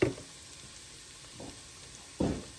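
Pork ribs for Vietnamese braised pork (thịt kho tàu) frying in a pan, giving soft sizzling bursts with brief stirring noises and quiet gaps between them.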